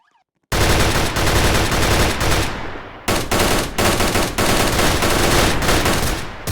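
Dense, loud gunfire rings out across a lake, a sniper firing from the far shore in rapid bursts that run nearly continuously, broken by a short pause near the middle.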